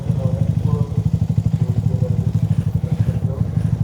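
Motorcycle engines idle while warming up before an early-morning group ride to the Sawarna coast, giving a steady, rapid low putter close by with some clatter, and voices talk faintly underneath.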